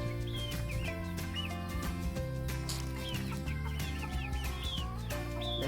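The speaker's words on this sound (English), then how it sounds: "The hens aren't happy." Backyard hens cluck and squawk steadily from close by, with rising calls repeating over a continuous farmyard background and no talk.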